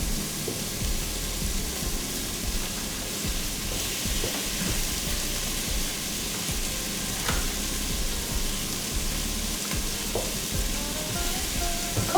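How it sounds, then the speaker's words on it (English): Sausages frying in a pan, a steady broadband sizzle that carries on unbroken, with a few light clicks and scrapes of the pan in the mix. "And then I'm gonna add my sausage."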